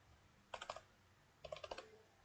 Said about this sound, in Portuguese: Digitei o password,